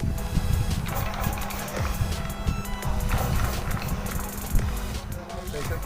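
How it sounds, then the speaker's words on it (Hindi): A homemade steam engine built from sewing machine parts and fed by a pressure cooker runs with a rapid, rhythmic chuffing and clattering of steam pressure release, close and continuous, with a voice speaking over it. "ये सक सक सक जैसी जो आवाज़ है ये बताती है कि इंजन एकदम सही काम कर रहा है।"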